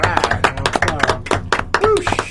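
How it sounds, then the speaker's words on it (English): A crowd at a soundcheck event breaks into a quick round of applause, dense and close hand claps with shouting voices mixed through. "All right, let's have a round of applause."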